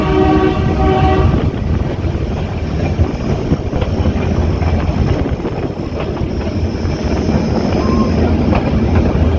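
A jungle train running from Sasan to Junagadh rumbles steadily and loudly throughout, with a brief horn-like tone near the start over continuous rolling rail noise.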